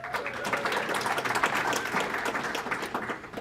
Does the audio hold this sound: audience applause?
yes